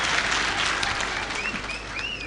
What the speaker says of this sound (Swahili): Mpige makofi dhamani.